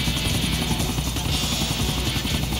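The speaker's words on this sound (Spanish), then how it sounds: "Estabilizar el helicóptero." Continuous Grand Theft Auto 4 helicopter rotor drone, loud and steady, with rapid low chopping throughout and no voices.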